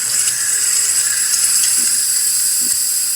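Loud, constant steam hiss from a freshly descaled DeLonghi espresso machine as its thermal block heats, close and unbroken, with a few soft low pulses and clicks beneath it.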